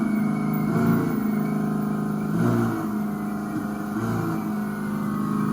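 An electric motorcycle's motor whines under light throttle, rising in pitch three times in short bursts over a steady humming drone, loud and close.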